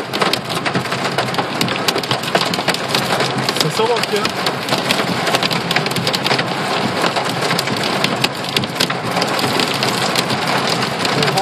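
Heavy hail and rain pound steadily on a car's body and hood during a thunderstorm, a dense, loud drumming throughout, with voices talking over it.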